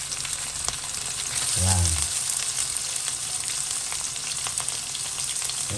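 Hotdog dropped into a pan with onion and garlic for sopas, giving a bright, continuous frying sizzle close by, with a brief spoken word early on.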